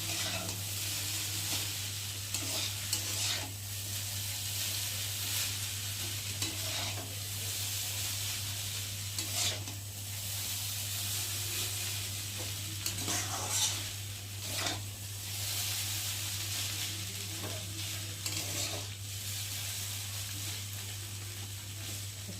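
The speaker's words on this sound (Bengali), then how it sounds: "চলো একটু হালকা করে ভেজে নিই। দেখো ভালো করে নেড়ে দিয়েছি" Chowmein noodles frying in a pan, an even, continuous sizzle with periodic stirring scrapes over a low steady hum, heard close and without speech throughout.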